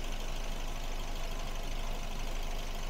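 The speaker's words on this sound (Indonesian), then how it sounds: "Untuk suara mesinnya ini masih sangat teratur sekali." A 2008 Daihatsu Terios TX manual with about 70,000 km idles with a steady, even hum heard close up from the engine bay, unbroken and without talk.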